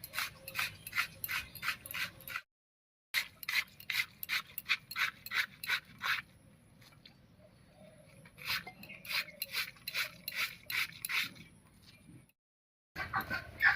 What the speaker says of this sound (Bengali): এবার শিলনোড়া একটু বেটে নেব এবার এখান থেকে অল্প অল্প করে নিয়ে বেটে নিচ্ছি